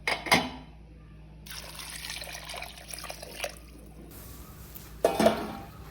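Water pours steadily into a pressure cooker holding washed tapioca for a few seconds, framed by sharp metallic clanks at the start and end.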